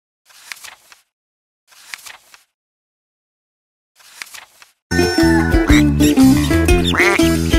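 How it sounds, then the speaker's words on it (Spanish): A cartoon duckling in a farmyard children's tale quacks three times, each call short and alone with silence between, before lively music abruptly starts and fills the rest. "vivía un patito llamado Falotín."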